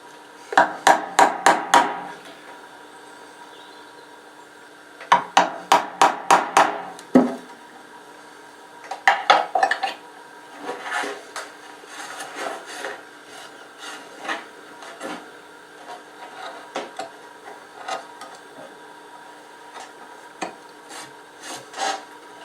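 A gouge cuts into an oak chest in quick clusters of sharp, rasping strokes, close and crisp, with pauses between bursts and lighter scraping taps later on.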